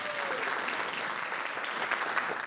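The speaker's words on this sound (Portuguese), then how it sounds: "uma salva de palmas para ela" An audience at a live talk event on stage gives steady, moderately distant applause, a dense continuous patter of many hands with no talking over it.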